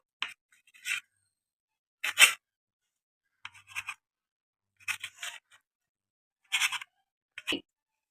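A knife slicing bread into square pieces on a board, five or six short crisp cutting strokes separated by silent pauses, close and fairly quiet, no speech.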